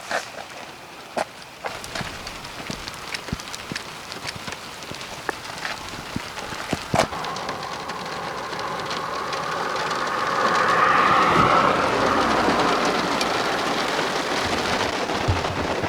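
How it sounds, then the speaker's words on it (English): Heavy rain during a UK thunderstorm, a steady hiss on surfaces that swells louder and denser partway through, with a few sharp drip and impact clicks and no voices. "Now here comes the rain."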